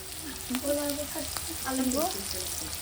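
Onion, capsicum and carrot fry in a pan for noodles, a steady sizzle with stirring, while a voice is faintly heard in the background.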